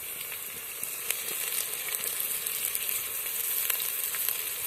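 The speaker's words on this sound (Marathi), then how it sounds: "आणि आता हे आपल्याला थोड्या वेळ असंच पुन्हा तळून घ्यायचं आहे" Garlic and ginger frying in a pan for masale bhat, a steady close sizzle and crackle with a few sharper pops, continuous and fairly loud with no voices.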